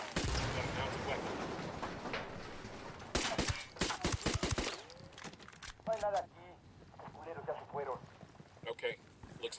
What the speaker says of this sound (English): Got a mounted weapon.